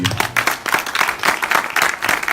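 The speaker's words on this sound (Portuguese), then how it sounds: "Se você é essa pessoa, dê um aplauso a ele." A church congregation applauds during a sermon, steady dense clapping running loud and close throughout with no gaps.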